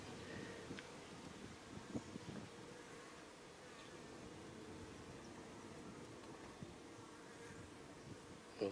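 Honeybees at a hive with a sugar syrup feeder jar give a faint, steady, low buzzing drone throughout, with light wind noise behind it.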